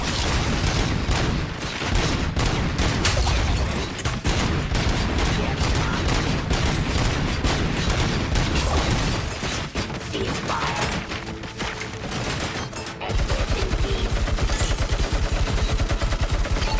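Gunfire in the video game RoboCop: Rogue City, heavy sustained automatic bursts running almost continuously under a dense, loud game soundscape, with a short break before firing resumes.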